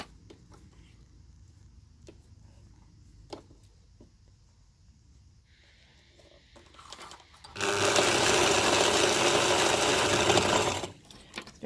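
A sewing machine runs a zigzag stitch to attach decorative elastic, a loud steady whirring burst of about three seconds after quiet handling noises.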